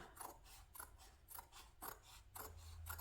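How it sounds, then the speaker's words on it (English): Scissors trim fabric interfacing for a handbag, a quiet series of crisp rhythmic snips repeating roughly every half second, close and alone. "I'm going to trim up my interfacing again"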